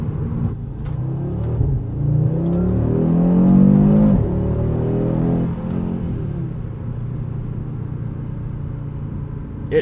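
A 2022 Audi RS3's five-cylinder turbo engine rises in a rumbling rev heard from inside the car, climbing in pitch toward a peak, then easing off into a steady drone.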